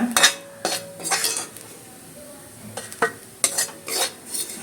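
Scraping stirs of a spoon in a pan come in short bursts, with a soft sizzle underneath as grated coconut is stir-fried.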